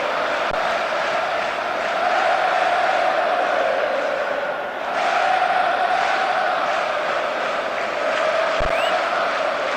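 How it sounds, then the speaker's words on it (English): A massive stadium crowd roars and chants continuously in a PS4 football game at a Manchester City versus Liverpool match, a dense steady wall of cheering with a brief dip midway. "The crowd wait to offer them a red-hot welcome."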